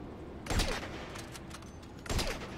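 Gunshots fired at a helicopter in GTA V, two distinct bursts of shooting at moderate level over a steady background hum of rotor and engine.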